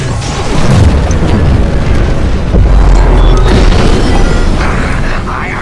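A reactor core explodes in the space-combat game Star Wars: Squadrons, a loud, heavy boom that swells into a long rumbling roar, with faint voices mixed in.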